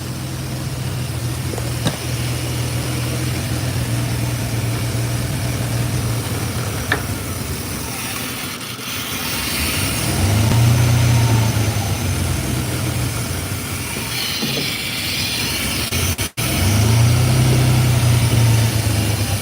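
A 1986 Chevrolet C10 pickup's 4.3-litre V6 with throttle-body injection idles steadily close by, its low, even rumble swelling twice with slightly higher idle surges, with no voices present.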